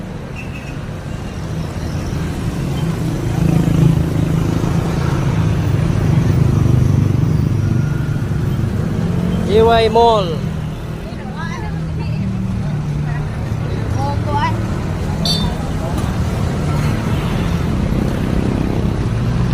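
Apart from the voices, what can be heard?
road traffic at JY Square, Cebu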